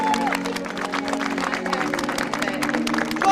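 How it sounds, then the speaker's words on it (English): An audience at a hotel bar stage in Malta claps and cheers for Eileen, a steady ripple of applause with whoops, fairly close and continuous. "Give her a round of applause, come on!"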